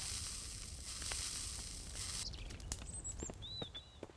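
Vegetables sizzling while they cook in the Mist Survival survival game, a steady crackling hiss that runs on, then thins out into scattered pops with a few faint high tones near the end.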